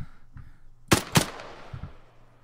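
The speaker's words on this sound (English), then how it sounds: "Unsuppressed MXM rifle firing into the blue." Two sharp, loud unsuppressed MXM rifle shots ring out in quick succession in a military shooter game, each with a short echoing tail, over a low ambient hum.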